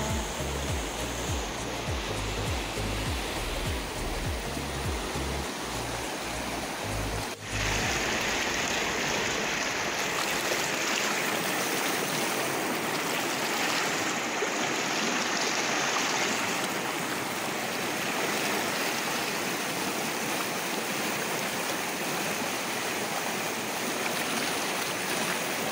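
The flooded Tinau river rushes in a loud, unbroken broadband roar of churning water that holds steady throughout, with a brief tonal sound over it in the opening seconds.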